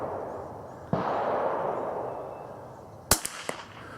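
A KSA 722 .22LR rifle fires at long range outdoors, one sharp crack followed by a few quieter reports in quick succession after a stretch of steady background noise.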